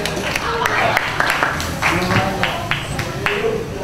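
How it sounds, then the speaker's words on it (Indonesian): Scattered hand claps from a small comedy show audience applauding a stand-up comedian, irregular and close, with a voice talking over them. "Ya, tepuk tangan lagi buat Arif"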